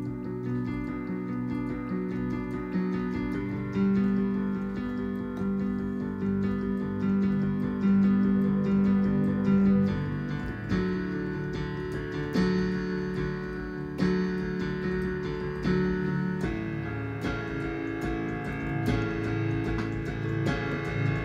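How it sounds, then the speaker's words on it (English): Piano playing the bridge of a worship song as a flowing arpeggio figure, steady rolling broken-chord notes sustained over a warm low register, moderately loud and alone with no talking. "what you hear is a type of like arpeggio for the piano."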